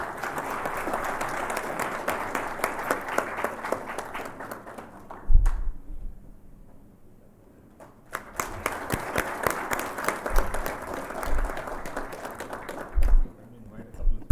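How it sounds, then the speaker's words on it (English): Audience applause at a healthcare management conclave, a dense crowd clapping in two long bursts broken by a short lull, with voices talking over and between them. "You could do with some claps."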